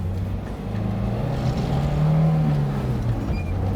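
A Maruti Gypsy soft-top with little soundproofing, its engine loud and droning under acceleration, the steady low rumble rising in pitch midway, heard close from inside the cabin.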